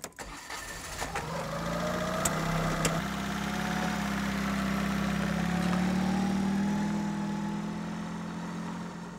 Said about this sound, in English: First thing you notice when you get inside the microcar is the sound of the engine.